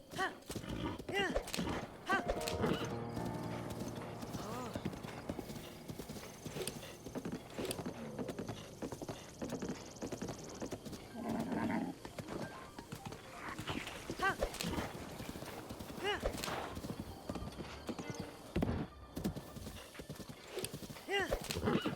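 Horse hooves clip-clop steadily in the Zelda Breath of the Wild video game, with occasional neighs and whinnies from the mount, while a player talks over the game sound throughout.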